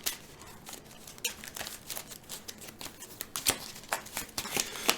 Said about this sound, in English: Lots of shuffling noises in the background.